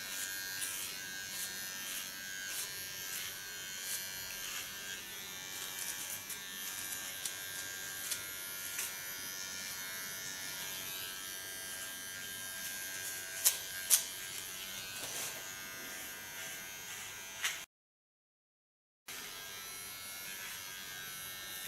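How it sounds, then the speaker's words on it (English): Electric hair clipper cutting hair for a short pixie haircut, a steady close buzz running almost continuously with a couple of brief sharper clicks, then a short break near the end before resuming. "and then I get with my clipper"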